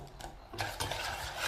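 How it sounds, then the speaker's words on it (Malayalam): Batter mixed with melted jaggery is stirred in a bowl for kalathappam, a Kerala sweet, giving soft scraping, rubbing strokes that repeat steadily and close by, with nobody speaking. "അതുപോലെ തന്നെ നമുക്ക് നന്നായിട്ട് ഇളക്കണം"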